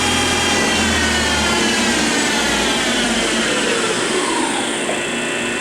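The spindle of a Harrison Alpha 400U 16 x 50 inch CNC teach-in lathe runs at steady speed, making a loud, continuous, even machine hum and whir with no breaks and no voices.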